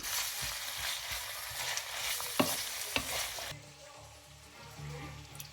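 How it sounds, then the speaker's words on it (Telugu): Chicken pieces fry in rapeseed oil with a soft, steady sizzle, broken by a few scraping stirs in the pan, heard fairly quietly and close up. "చికెన్ ఫ్రై పీస్ చేయడానికైతే మేము ర్యాప్స్ ఆయిల్ వాడాము"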